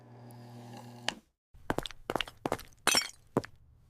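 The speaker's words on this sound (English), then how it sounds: "My precious vase is shattered." A vase shatters on a hard floor: a sharp crash after a brief silence, followed by scattered clinks and skittering shards, close and clear.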